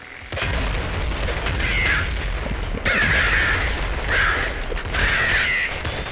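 Heavy explosive booms and crashing bursts from shot cars in the video game Nuclear Throne go off in quick succession, loud and close, with a harsh crackling texture and no voices.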